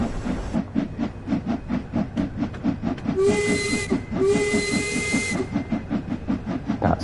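Steam locomotive in the Train Sim World 2 game, regulator opened with cylinder cocks closed: rhythmic rapid chuffing exhaust beats throughout, with two loud bursts of high hissing steam, each over a second long, layered over the chuffing.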